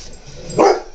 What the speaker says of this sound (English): now we're going to have all of the dogs barking